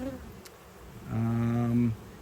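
Honey bees buzz during a hive inspection, a steady droning hum that swells close for about a second before easing back into quieter background.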